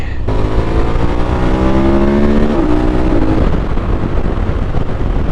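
A 2021 KTM 1290 Super Adventure S motorcycle accelerating on a Scottish coast road, its engine note climbing through gear changes under heavy, constant wind roar.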